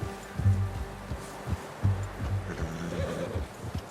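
In the video game Red Dead Redemption 2, hooves clop in an uneven rhythm on hard ground, with a low snort or whinny from a horse nearby and soft ambient noise behind.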